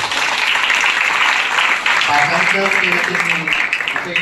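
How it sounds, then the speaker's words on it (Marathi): Audience applause at a college cultural association inauguration, loud sustained clapping from a large crowd filling the whole stretch, with some voices mixed in near the end. "खरंच टाळ्या वाजवा, क्या बात आहे."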